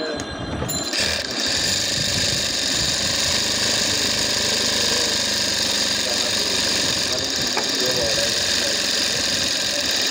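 Sewing machine running steadily and loudly while double-stitching the seat seam of a child's salwar, a continuous dense mechanical whir with a brief dip near the start.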